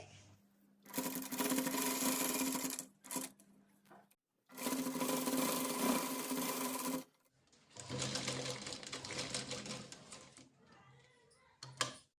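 A sewing machine stitches cord onto a sleeve in three close, sustained bursts of rapid mechanical whirring separated by brief pauses, with light fabric handling between them.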